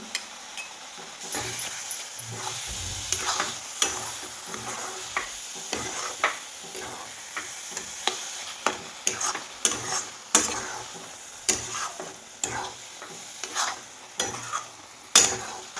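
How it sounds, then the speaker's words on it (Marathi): A spatula scrapes and stirs a thick carrot barfi mixture with sugar and grated beetroot in a sizzling pan, giving repeated scraping strokes and metallic clinks over a steady hiss of cooking, with no talking. "तर आता हे पाणी पूर्ण आटेपर्यंत मी हे असं हलवून घेणार आहे"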